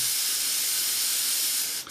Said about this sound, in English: what we want it to do is be a nice even spray and not a too wetter one